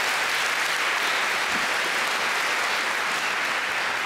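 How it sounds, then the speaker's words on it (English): A large audience at a University of Dundee graduation ceremony applauds in a dense, steady wash of clapping that holds an even loudness throughout, with no voices standing out. "Applause"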